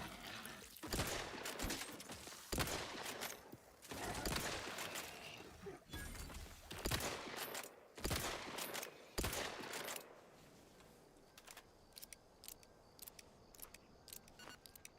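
Gunfire from a weapon in the sci-fi RPG The Outer Worlds 2, fired in rapid bursts of loud, close shots with short pauses between volleys, then thinning into sparser single cracks and clicks.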